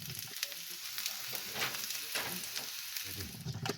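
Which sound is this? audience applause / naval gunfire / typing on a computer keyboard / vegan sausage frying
vegan sausage frying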